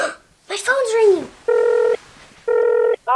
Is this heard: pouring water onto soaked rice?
no